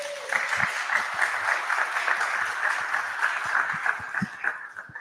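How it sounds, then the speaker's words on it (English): An audience at a Lutheran church quilters' concert gives a round of applause, moderate steady clapping heard in a hall with a sustained tone running beneath it. "Just give them a round of applause."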